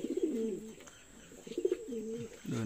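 Domestic pigeons kept in a household loft coo in soft, throaty, repeated phrases, several bursts close by across a few seconds.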